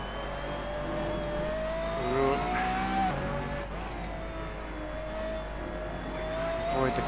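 A Brabham BT62 hypercar in Assetto Corsa at Laguna Seca accelerates with a steady, rising engine whine, a short dip as it shifts, then a climb again. The tone stays smooth and continuous throughout.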